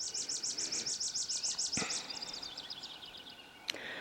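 Several birds sing at dawn in an outdoor tree line: a fast, regular run of bright repeated chirps opens, then thinner trilling notes follow, with a sharp click near the end, mid-distance and moderately loud.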